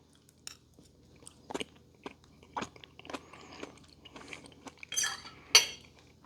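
Crunchy bites and chewing of roasted asparagus with onion from a Ninja Combi sheet pan, scattered soft crunches and a few faint clinks of cutlery, close and quiet with no talking.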